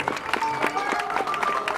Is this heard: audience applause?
yes